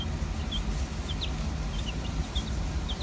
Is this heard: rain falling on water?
no